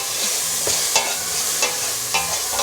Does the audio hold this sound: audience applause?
no